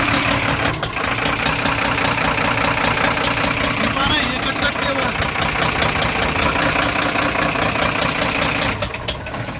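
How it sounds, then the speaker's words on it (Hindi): A worn engine idles loudly up close, with a fast, regular knocking tick running steadily over the mid-pitched engine hum until it eases slightly near the end. "कैसी कट कट की आवाज आ रही है इंजन में।"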